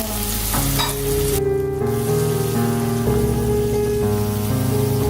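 Onions and tomatoes fry for a Kilinochchi-style fish curry, giving a constant bright sizzling hiss. Loud melodic music plays over it throughout, with no speech.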